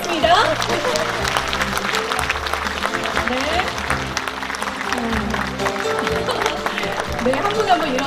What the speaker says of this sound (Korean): 여러분 앞으로 더 힘내달라고 큰 박수를 부탁드리겠습니다.